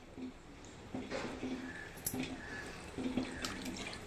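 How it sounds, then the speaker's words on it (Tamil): Water pours from a measuring cup into a pot of soaking rice for chicken biryani, a soft, steady splashing trickle with brief louder gushes, close and fairly quiet. "இப்போ நம்ம மெஷரிங் கப்பில் தண்ணி ஊற்ற போகிறோம்."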